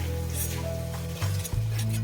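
Cashews frying in hot oil in a pan, a close, steady sizzle with brief stirring scrapes and a hum running beneath, alone without talk.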